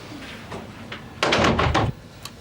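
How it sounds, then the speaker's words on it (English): An indoor door is shut once, a short solid thump with a brief rattle, close and fairly loud against a quiet room. "close the door, Kevin."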